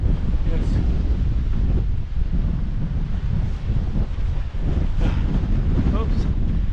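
Strong Force 8 gusts batter the microphone on the Malta coast at Migra l-Ferha, a loud, continuous roaring buffet with surging swells and no break.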